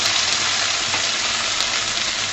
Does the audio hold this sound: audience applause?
no